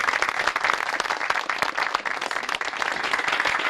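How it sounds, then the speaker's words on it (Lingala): A studio audience applauds loudly and continuously, dense clapping filling the whole stretch without any speech over it. "Alors on acclame très fort."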